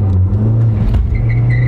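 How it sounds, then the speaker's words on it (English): A car pulls away hard and burns rubber, a loud low engine rumble rising in pitch with a steady drone and a brief sharp squeal near the middle. "Hey, it burns rubber."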